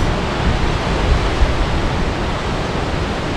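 Steady broadband roar of ocean waves along the Norfolk Island coast on a hiking trail, continuous and fairly loud with no distinct breaks, heard alone without voices.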